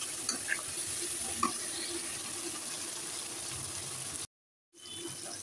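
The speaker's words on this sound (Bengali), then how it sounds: "আমি একটু পানি দিয়ে দিই।" Hot water pours into a cooking pot of lentil dal with a steady close gush, then cuts off abruptly before resuming briefly, no talk.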